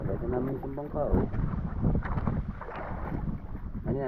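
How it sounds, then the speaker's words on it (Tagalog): A small bangka boat moves across open water with a steady broadband wash and wind buffeting the microphone, while people talk over it throughout. "Padasan namin itong bangka oh."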